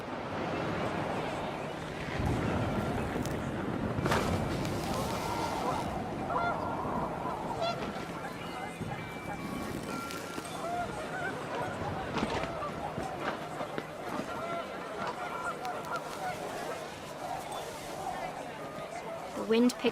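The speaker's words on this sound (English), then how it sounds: "The wind picked up, and panicked geese appeared and quickly went." Panicked geese in the video game What Remains of Edith Finch honk repeatedly over rising wind, the calls scattered and overlapping, with a narrating voice and other game sounds mixed in.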